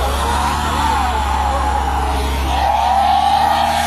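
Car wheels spinning hard with tyres burning while the car is stuck in a ditch, a loud continuous engine roar and whining tyre noise that holds steady, then rises in pitch near the end.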